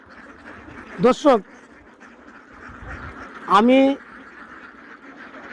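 Egg-laying runner ducks at a duck farm give two short bursts of quacking, one early and a louder one a few seconds later, over steady background noise while someone talks.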